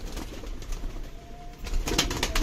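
Pigeons kept for sale murmur and coo in low, repeated tones, brief and fairly quiet against a steady background hum.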